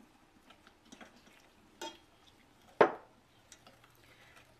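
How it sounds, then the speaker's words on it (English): A spoon stirs a cup of heavy cream into a chocolate sauce for a holiday chocolate mint cake, giving a few soft scrapes and one sharper clink against the bowl, with faint background noise and no talk. "Stir it in a little at a time."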